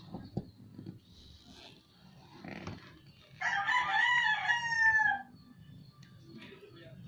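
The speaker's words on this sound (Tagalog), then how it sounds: "yung mga manok, hindi na po sila natigil sa kakaktilao" A single loud rooster crow rings out midway, nearby and sustained, amid low background rumble and occasional soft knocks.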